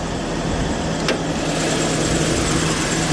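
A 2000 Toyota Kijang LGX with a fuel-injected engine idles steadily, heard up close with the engine bay open, a dense, even drone with no audible knocks or irregular sounds.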